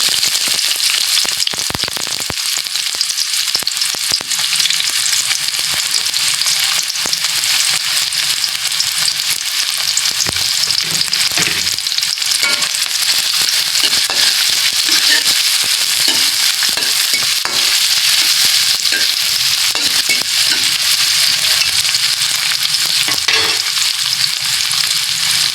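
Onion sautéing in a pan for chicken tinola, a loud, dense and continuous frying crackle that holds steady throughout, with occasional faint stirring and no speech.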